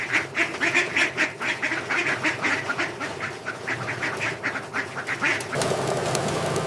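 Muscovy ducks at a hatchery give a rapid run of close, repeated quacks and honks, then the calling gives way to a steady hum of machinery.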